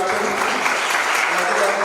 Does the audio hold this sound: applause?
yes